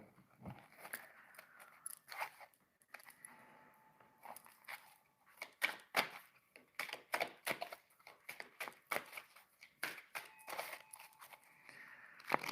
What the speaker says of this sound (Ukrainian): Зараз я візьму ще одну колоду.